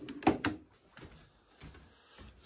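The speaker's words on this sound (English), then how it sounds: "open up all the doors" Doors being opened at a home dog boarding business, two sharp close thuds and rattles of a latch or door, then softer bumps and shuffling movement at a lower level.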